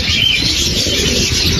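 Birds calling inside a pet shop, a steady close wash of chatter and calls over a broadband rushing background, continuous and fairly loud with no talk.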